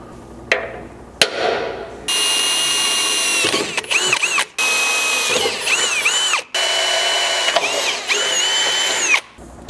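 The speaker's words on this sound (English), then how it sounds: "if you're drilling these bottom holes with a step bit or a unibit like I have here" A power drill with a step bit bores holes in a Nissan Frontier truck frame, whining loudly in several sustained bursts that rise and dip in pitch, separated by short pauses and a sharp clank.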